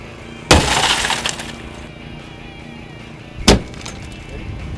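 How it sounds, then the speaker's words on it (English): Car window glass shatters twice during a fire department rescue extrication drill: first a sharp loud crash with crunching debris, then a second break about three seconds later, both close and over a low rumbling background. "This might break. I hope it doesn't."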